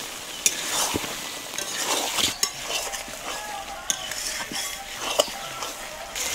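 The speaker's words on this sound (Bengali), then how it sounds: "মাংস কষানো হয়ে গেছে, মাংস থেকে তেলও ছেড়ে দিয়েছে" Mutton being stir-fried down in a pan for a potato mutton curry, with a steady sizzle and frequent scraping, clinking stirs of a spatula against the metal, sounding close and continuous without talk.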